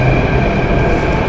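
A metro train pulls into a metro station with a loud, steady rumble and roar of wheels and carriages, a dense close noise filling the whole moment.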